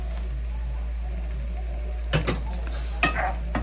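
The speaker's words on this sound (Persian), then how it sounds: "وقتی که روغن داره یه خورده جوش میزنه" Onions and spices fry in bubbling oil in a pan, giving a steady low sizzle, and a utensil stirs and clinks against the pan twice in close, louder bursts.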